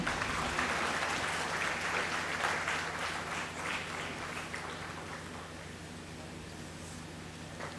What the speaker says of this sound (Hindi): आप सभी की जोरदार ताली होनी चाहिए